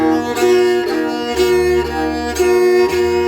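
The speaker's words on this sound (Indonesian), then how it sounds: "Nah, ini teknik menggesek." Rebab pesisir bowed across its double strings, sustained bowed notes in repeated strokes with clear changes of bow direction, loud and close with no voice.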